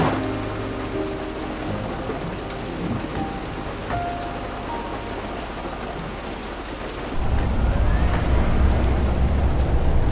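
Steady heavy rain pours around a car on the road, with a deep thunder rumble swelling louder in the final few seconds and no voices.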